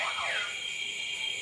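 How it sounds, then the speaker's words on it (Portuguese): A car alarm wails nearby, a loud, sustained electronic tone with a quick sweeping pattern at the start, steady over the short stretch with no voices. "Tocou o alarme, é isso?"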